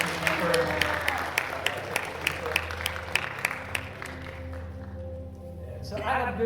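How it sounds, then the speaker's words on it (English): A high school crowd at a stage hypnosis show claps in a burst of close, crisp applause that thins out and fades after a few seconds, leaving a quieter room with a bit of stage noise. "And give them a nice big round of applause."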